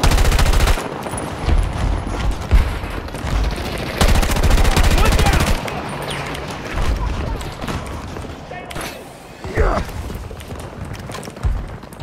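Battlefield gunfire in heavy bursts of rapid automatic shots and thumping impacts, loud and close at first, then easing into scattered shots, with game voices talking over parts of it.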